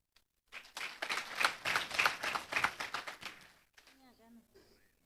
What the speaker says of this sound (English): So a round of applause to you all.